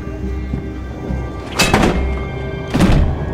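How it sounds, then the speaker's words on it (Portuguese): Wrench striking a man's head in the video game Beyond Two Souls, heard as two heavy thunks about a second apart over a low background hum. "A gente pega uma chave, vai bater na cabeça do cara."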